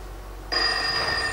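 An old-style telephone in a doctor's office suddenly starts ringing after a brief quiet moment, a loud bright bell trill that carries on steadily to the end.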